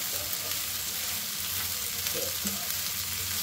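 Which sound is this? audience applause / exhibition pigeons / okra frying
okra frying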